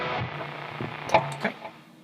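Electric guitar through a stereo tape delay on a Hotone Ampero II multi-effects unit, a few soft picked notes with smeared, repeating echoes trailing off, fairly quiet and alone.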